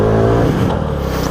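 A Honda Ruckus scooter engine revs hard and steadily near its limit while climbing a rough trail, a loud, continuous buzzing drone with no break over the short span.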